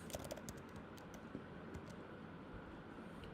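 Fingers type C code on a computer keyboard in quick, irregular bursts of faint, close clicks and taps over a quiet room, with no talking.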